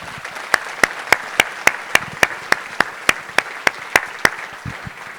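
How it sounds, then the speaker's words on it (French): Rhythmic clapping from a dinner-conference audience at the Château des Pères in Rennes, sharp evenly spaced claps beating in unison at a steady quick pulse, close and fairly loud, with no talk over it. "nous pouvons tous vous applaudir très,"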